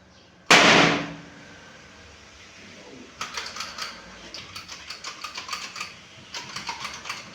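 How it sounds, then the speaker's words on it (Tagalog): A nail gun fires one loud, sharp bang while a bracket is being put up, followed after a pause by a run of lighter, rapid clicking and tapping. "ang tawag po nito ay nail gun"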